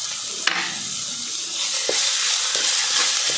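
Peanuts, asafoetida and crushed chili sautéing in hot oil in a pan, a steady close sizzle with a few sharp clinks of a spoon stirring.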